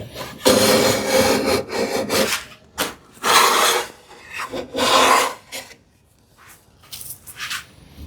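Hand plane fitted with a PMV-11 steel blade shearing wood shavings, several loud close strokes of rasping hiss separated by short gaps, tapering to quieter, briefer passes near the end.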